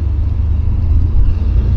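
BMW M5 car driving, a steady low engine and road rumble heard from inside the cabin, continuous and fairly loud with no talk over it.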